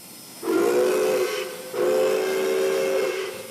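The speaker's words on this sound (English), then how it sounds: "The Pere Marquette is one of only a handful of steam-powered locomotives that are still in operation" Pere Marquette 1225 steam locomotive sounding its whistle in two long blasts, the second longer, loud and steady with a hissy edge, no voices.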